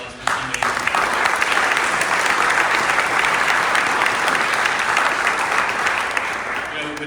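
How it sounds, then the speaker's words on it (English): Loud, dense audience applause at an event, honoring Steve Davies, with many hands clapping steadily from start to finish and faint voices mixed into the crowd noise. "just join me in a round of applause for Steve Davies."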